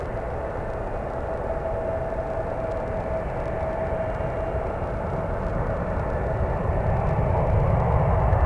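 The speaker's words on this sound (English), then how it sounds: "This one flying to Frankfurt. United Airlines 926." A United Airlines airliner on flight 926 to Frankfurt flies near San Francisco Airport, giving a steady, broad jet roar with a low rumble that holds loud and slowly swells over several seconds, with no talk.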